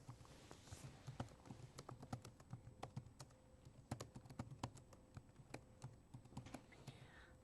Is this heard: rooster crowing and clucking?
no